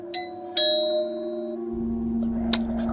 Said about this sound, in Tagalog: Ay naku, sino kaya ito nagdo-doorbell?